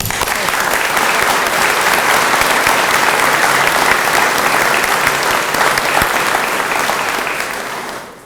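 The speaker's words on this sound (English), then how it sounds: "please join me in another round of applause for our speakers today" An audience at a welding technology center announcement breaks into sustained loud applause, dense clapping that holds steady for several seconds before fading at the end.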